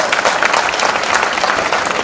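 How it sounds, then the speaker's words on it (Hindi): An audience at a large youth dialogue event in Bhopal breaks into loud, dense applause, a steady close roar of many hands clapping with no talk over it. "जोरदार ताली बजाओ।"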